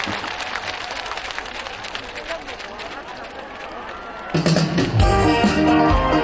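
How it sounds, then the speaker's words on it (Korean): An audience at an outdoor event at a train station applauds, the clapping swelling loud and dense partway through amid crowd noise, with a voice speaking over the start. "자 여러분 다같이 박수 한번 드려보면"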